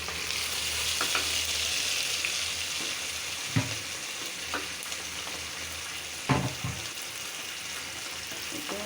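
Dried fish frying and being stirred in a pan with green chilies, turmeric, chili and coriander powder, ginger-garlic paste and salt, a steady close sizzle broken by a few louder stirring scrapes.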